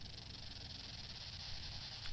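Cicadas buzz on tree trunks in a modded Minecraft world, a steady shimmering drone that holds evenly throughout, fairly faint and alone with no talking.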